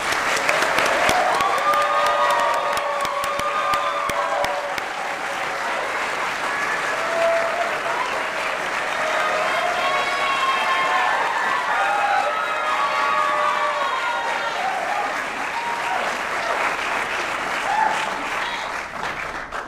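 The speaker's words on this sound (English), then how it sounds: "let's give these candidates a welcoming round of applause right now" A debate audience welcomes gubernatorial candidates with loud, sustained applause and scattered cheers and whoops running steadily throughout, no single voice standing out.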